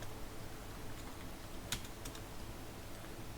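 Faint, quick keystrokes on a computer keyboard while a pip install command is typed, soft clicks under a steady hiss with one slightly sharper tap partway through.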